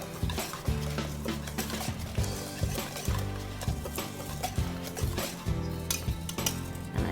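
Dry ingredients for lemon protein bars mixed in a bowl with a utensil, close rhythmic scraping and knocking against the bowl's sides, continuing steadily with occasional sharper clinks.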